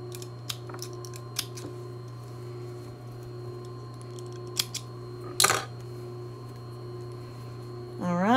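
Fabric snips cutting mask fabric: a handful of short, sharp snipping clicks scattered over a steady room hum, with a louder burst of cutting near the middle and a rustle at the end.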